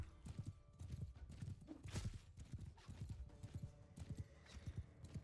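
Horse hooves pound at a full gallop in Bannerlord, with a rapid, steady clip-clop rhythm running through the whole stretch, moderately close over a dull battlefield rumble.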